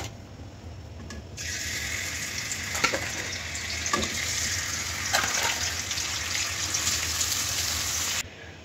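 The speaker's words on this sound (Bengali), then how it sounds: "মাছটা আগে ভেজে নেব।" Sarputi fish frying in oil in a pan on a gas stove, a steady close hiss and crackle with a few louder spits and stirring clatters, unaccompanied by speech.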